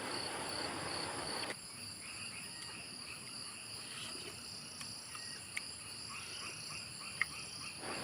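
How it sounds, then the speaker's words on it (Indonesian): Insects chirp steadily in a forest, a thin, continuous high-pitched trill. It carries over a faint low background, with a few soft clicks and calls scattered throughout. "ditemani dengan suara hewan serangga di hutan ini"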